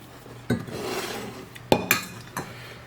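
A utensil scrapes gin-and-lemon marinade with lemon zest into a saucepan, giving a few close, sharp scraping and clinking strokes over a quiet background.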